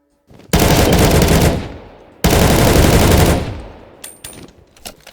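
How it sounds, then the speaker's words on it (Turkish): Loud automatic gunfire bursts from a sniper rifle in the Minecraft video game, two long sustained volleys, then a few sharp separate shots at the end. "Keskin nişan tüfeğiyle vurayım."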